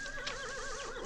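A horse lets out a single sustained whinny with a wavering pitch. The call is fairly faint and steady across its brief length, with no talk over it.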